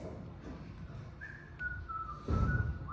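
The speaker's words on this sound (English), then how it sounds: "And do stop whistling." A person whistles a thin, sustained tune that slides slightly in pitch, set over a low background rumble with a brief thump near the end.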